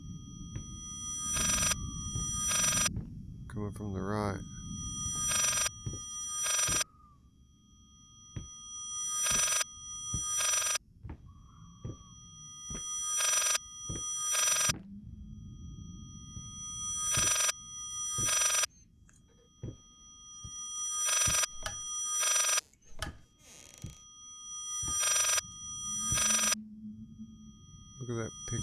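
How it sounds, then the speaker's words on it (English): A ringing telephone in the VR horror game Layers of Fear sounds in repeated bursts of bright, trilling rings with short gaps, loud and fairly close, while someone talks over parts of it. "weird phone ringing or something."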